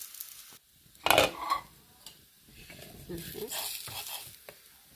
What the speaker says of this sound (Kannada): ಹೀಗೆ ಸಹ ಎರಡು ಬದಿ ತುಪ್ಪ ಹಾಕ್ಕೊಂಡು ರೋಸ್ಟ್ ಮಾಡ್ಕೊಂಡ್ರೆ ಸರಿ